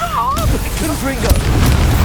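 A Confringo fire spell explodes in Hogwarts Legacy, a loud booming blast with sustained low rumble and crackle across the whole moment, a voice briefly heard early on.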